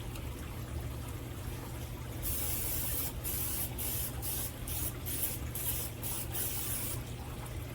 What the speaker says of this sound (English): And we are going to spray it with some Pam.